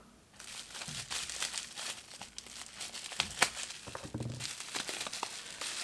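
Crinkly plastic packaging around a folded fountain pen nib crackles and rustles continuously for several seconds, with a few sharper crunches near the middle, close to the listener.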